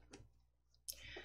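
A computer mouse is double-clicked on a chart axis in PowerPoint, a sharp, close click standing out near the end of a quiet moment, with faint room noise around it.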